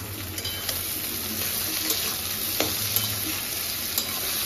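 Chopped tomato and green chili land in a pan of frying onions, giving a steady close sizzle with a few soft stirring scrapes and taps, no voices.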